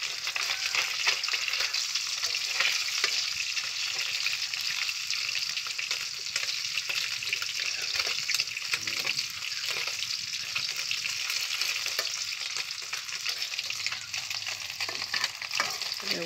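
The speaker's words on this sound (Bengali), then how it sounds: "আর এক পিঠ উল্টিয়ে একটু ভালো করে ভেজে আমি উঠিয়ে নিব।" Fish frying in a pan of hot oil, a strong, steady sizzle and crackle that runs unbroken from start to finish, close up and with no voices over it.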